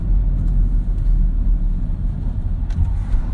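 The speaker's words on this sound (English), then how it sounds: "Just had a bunch of vehicles pull out in front of me." Several vehicles pulling out onto a road, heard as a steady, close low rumble of car engines and traffic throughout, with no talking.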